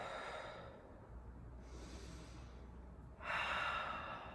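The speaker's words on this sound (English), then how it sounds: "Couple of breaths here" Slow breathing in a standing yoga pose, with a soft breath early on, a quiet pause, then a louder exhale near the end, close and without talking.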